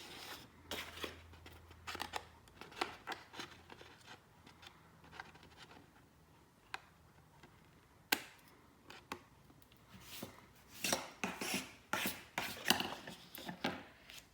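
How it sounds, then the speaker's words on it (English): Scissors snip paper for a border-making craft, a series of scattered close clicks and crisp snips, sparse at first and clustering more densely toward the end, quiet and with no voices. "So we're just snipping it off."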